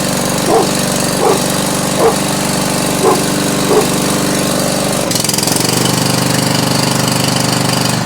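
A John Deere Z425 riding mower engine runs steadily on choke with a rough, rumbling drone, and a dog barks several times close by over the first five seconds before the engine note shifts.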